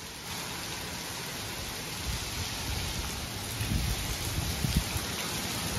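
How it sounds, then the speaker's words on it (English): Heavy rain pours steadily during a severe thunderstorm, a dense continuous hiss with no voices, swelling slightly with a few louder splashes toward the end. "now it's just heavy rain, right?"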